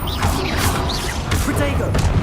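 Harry Potter Confringo blasting curse effects amid a spell-casting scene: continuous rumbling blasts, crashes and whooshing swishes with a few rising magical tones, loud and close, with voices shouting over the din.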